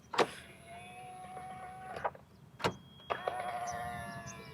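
Motor whine from the doors of a Tata Nexon EV Prime after 3.5 years of ownership, several short buzzing whirs with sharp clicks in between, close and fairly loud, with no talk.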